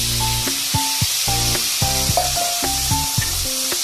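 Cucumber and potato pieces added to hot oil seasoned with asafoetida, a loud steady hiss and sizzle close by, with a run of tonal squeaks and scrapes as the pan is stirred.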